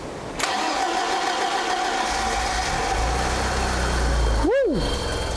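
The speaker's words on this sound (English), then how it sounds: "Dodgy starter motor." A BMW E30 with a faulty starter motor cranks its engine in one steady, continuous churning run lasting several seconds, with a brief sweeping whine near the end.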